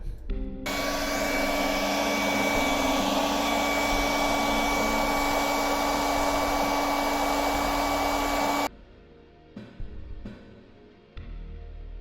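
A hair dryer blows steadily and loudly on a toy's power glove hand for about eight seconds, a constant whooshing roar with a whine, then cuts off, leaving faint handling clatter.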